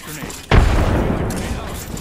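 Grenade blast in Apex Legends: a sharp, loud boom hits suddenly and leaves a rumbling, crackling tail that slowly decays.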